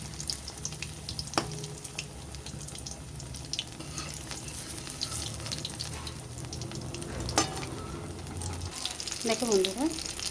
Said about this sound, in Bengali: এইভাবে আমি সমস্ত যতগুলো বানিয়েছি সবগুলোই একে একে ভেজে নেব